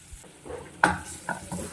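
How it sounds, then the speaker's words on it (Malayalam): Onion frying in oil in a pan for egg curry, sizzling with a few scraping stirs and clinks of a utensil, close and moderately loud. "കുറച്ച് എണ്ണ ഒഴിച്ചിട്ട് കുറച്ച് സവാള ഇനി വറുത്തെടുക്കുന്നുണ്ട്"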